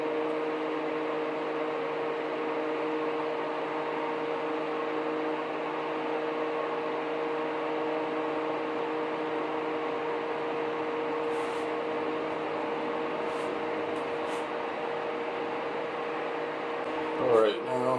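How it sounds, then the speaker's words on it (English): A fan whirs steadily in the background of a hot workshop during a Mercedes-Benz CL500 W215 radiator fan and hose job, a constant low hum with a few faint clicks near the end. "That's why you can hear the fan in the background."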